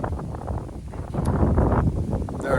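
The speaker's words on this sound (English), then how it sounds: "It might be a little bit windy out here." Low, blustery wind buffeting the microphone outdoors, a steady rumble that swells and eases over a few seconds with no voices.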